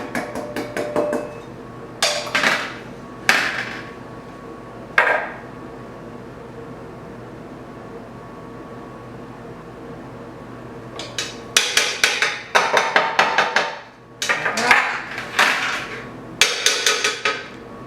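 A madeleine pan being tapped to knock out excess flour: a few sharp, separate metallic knocks, a long quiet gap, then quick bursts of rattling taps, close and bright.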